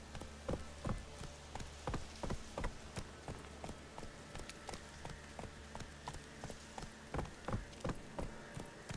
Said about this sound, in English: I love that it's raining non-stop.